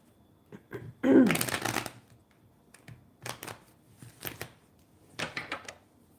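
Tarot cards are shuffled by hand in riffling bursts, one long loud flurry followed by several shorter, softer shuffles separated by pauses, with no talking.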